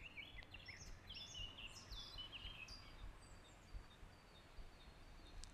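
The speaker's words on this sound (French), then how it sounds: "Laissez le chant des oiseaux, du vent." Birds sing outdoors in a series of quick, high chirps and trills at moderate distance, fairly faint over a steady low background hum.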